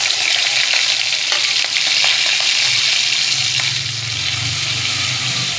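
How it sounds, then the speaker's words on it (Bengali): Garlic paste and green chili frying in hot oil with cumin seeds give a steady, loud sizzle, with scattered stirring scrapes and crackles throughout. "এবারে দিয়ে দেব রসুন বাটা আর কাঁচা লঙ্কা।"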